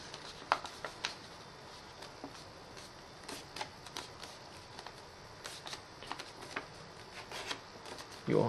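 A dollar bill being folded for origami gives faint, scattered paper crinkles and soft creasing taps, close and quiet.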